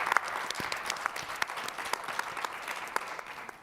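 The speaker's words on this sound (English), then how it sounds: "Clap if you enjoyed just the experience of walking through." An audience at a museum roadshow event claps, a fairly quiet, scattered patter of hands with sharp individual claps standing out, heard from a distance.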